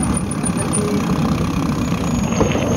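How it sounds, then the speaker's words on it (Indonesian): A motorcycle engine drones steadily close by on a steep village back road, a continuous mid-pitched hum with no clear approach or fade as it passes, no voices over it. "Awas motor."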